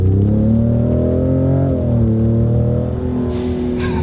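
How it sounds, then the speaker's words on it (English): A 510 hp Ford Raptor EcoBoost fitted with a Turbo Smart blow-off valve drones steadily at close range, then releases two short, airy purging hisses near the end. "This also has a Turbo Smart blow-off valve, and that's where the beautiful purge is coming from"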